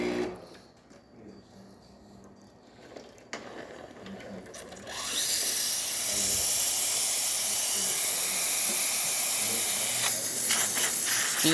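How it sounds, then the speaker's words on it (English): Steam wand on an ECM Giotto espresso machine bursts into a loud, steady hiss after a few seconds of quiet handling noises, holding a strong continuous rush close by to the end. "Steam coming out from this machine,"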